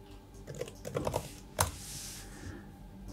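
Keys clatter on a computer keyboard in a short burst of close typing, then a louder single tap and a brief pause, quiet and without talk.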